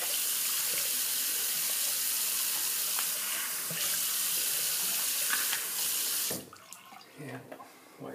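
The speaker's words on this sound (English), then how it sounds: "So I'm just going to rinse off my face here." A tap runs with splashing water for about six seconds while a face is rinsed at a sink after a straight razor shave, then the flow stops and a few quiet drips and movements follow.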